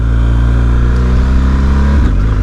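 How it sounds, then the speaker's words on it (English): A BMW R 1250 GS motorcycle with a boxer engine rides on the street, giving a loud, steady, deep engine drone with a brief dip near the end, like a quick gear change, and no talk. "I expect the vibrations of a boxer engine."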